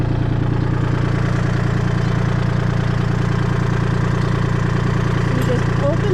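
A Kubota L2501 tractor engine idles steadily nearby, a loud continuous low diesel chug with an even knocking rhythm that never varies, while someone speaks over it.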